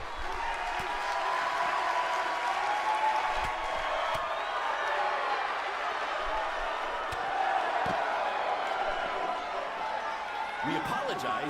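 Sold-out arena crowd at a WWE 2K19 wrestling show keeps up a steady roar of cheering and clapping throughout, with scattered thuds and claps standing out.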